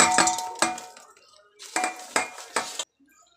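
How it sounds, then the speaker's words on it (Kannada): Fried field beans are stirred into a snack mixture in a metal vessel, giving sharp metallic clinks and scrapes of a spoon in two short bursts separated by a pause. "ಅವರೆಕಾಳು ಫ್ರೈ ಮಾಡಿ ಇಟ್ಕೊಂಡಿದ್ವಲ್ಲ, ಅದು ಹಾಕ್ಕೊಂಡು ಮಿಕ್ಸ್ ಮಾಡ್ಕೊಳ್ಳಿ"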